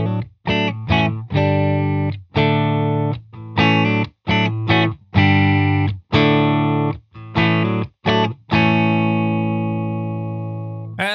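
Electric guitar with humbuckers played through a 1967 Fender Bassman amplifier and an EAE Halberd V2 pedal, loud distorted chords in choppy stop-start bursts, ending on a long sustained ringing chord.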